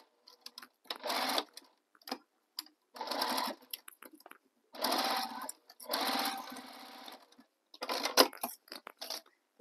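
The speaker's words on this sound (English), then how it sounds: "I'm going to sew across this corner using the seam allowance given in the pattern, backstitching at start and stop" A sewing machine stitches across the corner of a tote bag in about six short, close bursts of rapid whirring with brief silent gaps, like stop-and-start backstitching.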